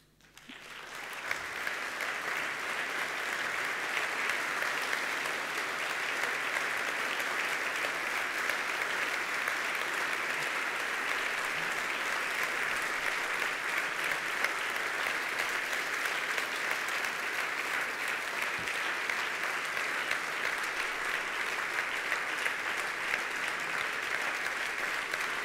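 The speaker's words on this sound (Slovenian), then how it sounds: "Hvala za vaš aplavz s 30-kratno močjo." A large standing audience applauds former presidents at an anniversary gathering of a managers' association, the clapping swelling quickly into a long, steady, dense ovation that holds evenly throughout.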